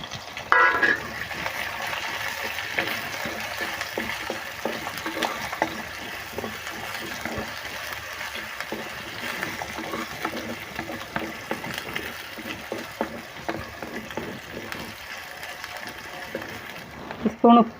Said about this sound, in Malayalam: ഇഞ്ചി, പച്ചമുളക്, വേപ്പില, വെളുത്തുള്ളി, ചുവന്നുള്ളി, സവാള എന്നിവ ഇട്ടെടുത്ത് നമുക്കൊന്ന് വഴറ്റിയെടുക്കാം